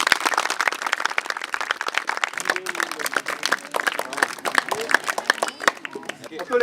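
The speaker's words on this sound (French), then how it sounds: "on vous demandait de les applaudir" Lively clapping from a gathered crowd at a Tahitian Heiva event, steady and dense throughout with voices mixed in beneath.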